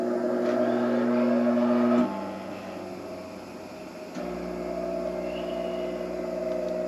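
An Atlas WB42 wheel balancer spins a wheel, giving a steady motor hum with tonal whine that drops in pitch and loudness as it slows, then steps back up into a lower steady drone.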